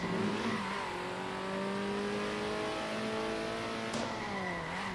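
Race car engines in the top-down racing game Circuit Superstars, a steady whining drone of several cars with rising and falling pitch as they accelerate and brake, plus brief tire squeal, with no talking.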